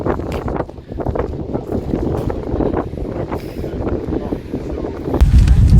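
Wind buffeting a microphone outdoors at a seaside litter pick in Prestwick, a steady loud rumble and roar throughout with a heavier gust at the end.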